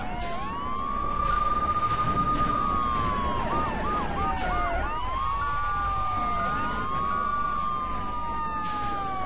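Wailing police car siren in GTA 3, sweeping steadily up and down and staying loud and close throughout, with a second overlapping siren tone joining at times over a busy game backdrop.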